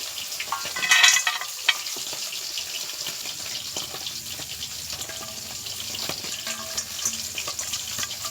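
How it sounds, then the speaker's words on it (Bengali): A fish rubbed with salt and turmeric fries in a pan, giving a continuous crackling sizzle at moderate distance, with a few sharp clinks and stirring sounds over it. "নুন হলুদ মাখিয়ে মাছটা ভাজা বসিয়ে দিয়েছি"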